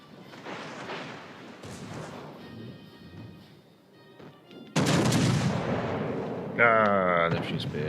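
5.2-inch naval guns in a warship game fire in crashing, rumbling salvos that grow dense and loud halfway through, with a voice heard early and a tonal game sound at the end.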